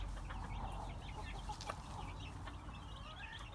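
A hen in a coop, about to lay an egg, gives a run of soft, quiet clucks and short calls, fairly faint and with no one talking.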